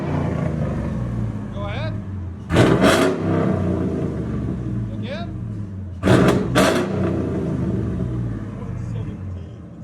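A supercharged GMC Denali with a 6.2L V8 and dual exhaust fitted with valved mufflers, valves open, gives two sharp, loud revs that bark and fall back to a deep idle rumble, while people talk briefly nearby.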